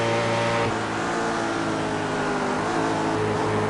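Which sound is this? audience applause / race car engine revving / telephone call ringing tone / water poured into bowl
race car engine revving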